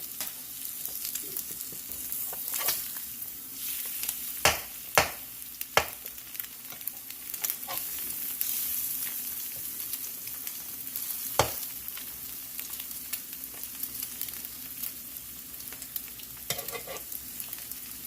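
Breakfast sandwiches sizzle steadily on a griddle, a continuous close fry with a few sharp clicks and taps from utensils over the top and no speech.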